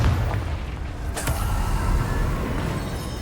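Confringo fire-blast spell explosions in the Hogwarts Legacy video game, a low rumbling boom with a sharp crack near the middle, heard close and fairly loud over a dense game soundscape.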